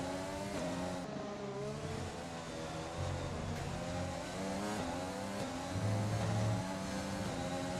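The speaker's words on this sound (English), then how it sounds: "We are not going to catch Verstappen at the end of this straightaway." An F1 race car engine in the video game F1 2020 screams at high revs down a straight, its steady harmonic whine rising and shifting through gears, loud and continuous with no talk.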